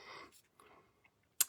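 A half inch trimmed off the end of a sheet of patterned paper for a card project: faint rustling handling, then a single sharp, brief cutting snap close by near the end.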